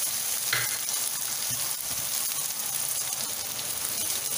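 Shallots sauté in a pan with a dense, continuous sizzle that stays close and steady throughout. A few soft stirring bumps come through, and no one speaks.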